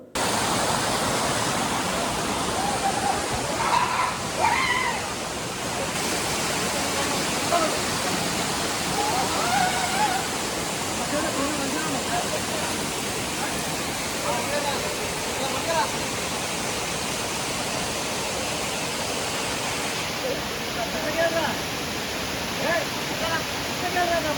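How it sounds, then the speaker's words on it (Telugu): Waterfall deep in a forest, a steady, loud broadband rush of falling water that carries on throughout, with faint voices now and then beneath it. "డీప్ ఫారెస్ట్లో ఈ వాటర్ ఫాల్స్ చాలా బాగుంటుంది"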